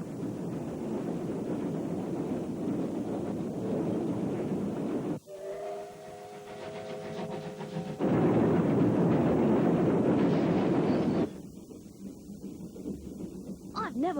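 A train rumbles steadily, then the roar shifts as it enters and leaves a long mountain tunnel, with a brief whistle-like tone in the middle; no speech.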